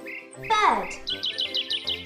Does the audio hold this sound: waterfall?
no